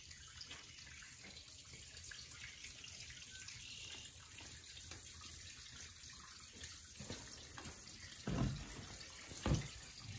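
Water runs steadily inside an 1890s spring house used to cool milk cans, a faint continuous trickle and wash of flow, with two brief louder splashes or knocks near the end.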